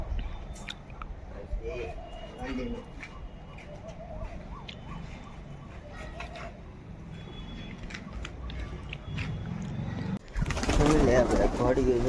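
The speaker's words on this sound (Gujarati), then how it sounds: "જો કબૂતર બધે ઉડે છે આમથી આમ" Pigeons coo and murmur outdoors among ambient noise, then a sudden loud burst of wing flapping as the flock takes off near the end; a person speaks in the background.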